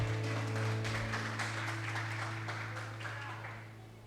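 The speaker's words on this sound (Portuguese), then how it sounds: "Aplauda o Senhor." A church congregation applauding during a Portuguese-language sermon, soft continuous clapping at a distance over a low sustained hum, fading slightly toward the end.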